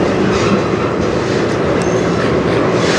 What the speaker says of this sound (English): This is one big train.